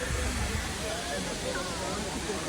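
A waterfall under shady plane trees roars with a dense, continuous rush that fills the whole scene at steady loudness, with no breaks.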